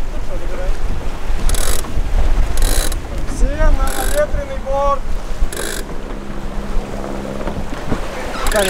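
Gusty wind buffets a sailing yacht, roaring across the microphone over the splash of water and creaking rigging, while people speak intermittently beneath it.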